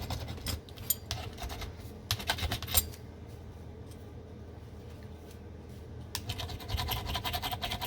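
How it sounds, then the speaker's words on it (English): Oyster shells being cleared away after pearl opening, a dry scraping and clattering that comes in bursts with a quieter stretch in the middle, close by and without talk. "Let me just clean up the shells for you"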